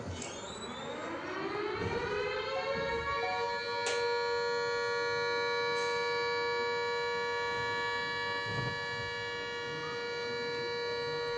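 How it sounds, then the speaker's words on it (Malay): A civil defense siren sounds the steady all-clear during an air raid blackout exercise. It rises at the start and then holds one long, loud, unbroken tone throughout, with faint background noise beneath it. "sound for the all clear warning. And the duration of the siren?"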